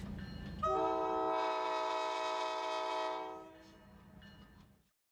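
A train on the Sierra Railroad sounds a loud, sustained multi-tone horn blast for about three seconds over a low rumble, then fades into quieter running noise.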